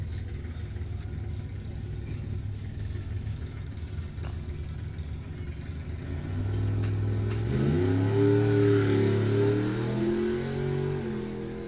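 A 1957 Chevy bracket-racing car at a dragway revs hard and launches down the strip, its loud engine roar climbing through gear changes and staying close and continuous throughout.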